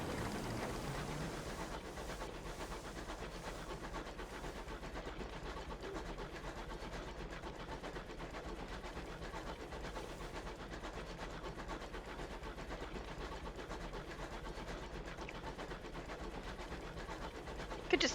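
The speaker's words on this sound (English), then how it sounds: "Could just listen to that train sound all day long." A locomotive from the video game Sunless Skies runs steadily, a continuous rumbling engine drone with faint rhythmic clatter holding level throughout, with no voices.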